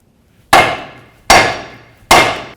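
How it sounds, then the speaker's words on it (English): Three hard, ringing hammer blows strike a steel steering knuckle to drive out the ball joint on a 2005-2009 Subaru Outback, evenly spaced and close, each with a short metallic decay and no talking. "I'm just going to try to hammer this right here, see if we can get that ball joint out of that knuckle"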